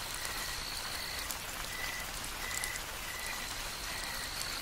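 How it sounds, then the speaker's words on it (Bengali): Light drizzle falls at night as a cartoon sound effect: a steady, even hiss of rain with faint, thin insect-like or frog-like tones threading through it, no voices. "এখন হালকা ঝিরঝিরে বৃষ্টি পড়ছে।"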